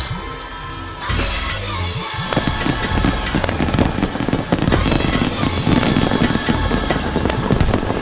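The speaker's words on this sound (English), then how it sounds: "Another created fireworks." Fireworks crackle and pop in rapid bursts, with sharp bangs layered over a continuous sizzling crackle that grows busier after the first second.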